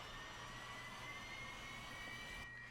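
A steady, faint jet engine whine and rumble in a flight simulator game, continuous with a high whistling tone, as the engine is being restarted after shutting down.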